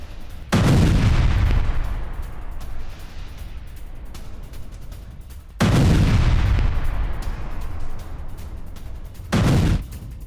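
Loud bombardment explosions strike Hezbollah positions in Lebanon, leveling buildings in news footage. Three heavy booming blasts land at about one, six and nine seconds, each followed by a long rumbling decay, with no talk.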